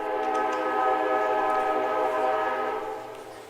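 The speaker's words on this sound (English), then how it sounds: "As you can tell, we're not far from the train tracks here in Greenwood." Train horn blaring steadily near a baseball field in Greenwood during a college club game, a loud sustained multi-tone blast that fades slightly toward the end.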